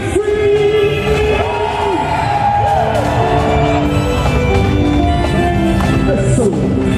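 A loud, continuous crowd of people screaming, whooping and cheering together during a Washington DC trip, with overlapping yells that rise and fall over the whole stretch.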